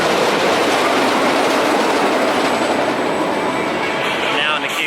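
The Ghostrider wooden roller coaster train at Knott's Berry Farm rumbles along its track, a loud, steady roar of wheels and clatter that holds throughout, heard from nearby.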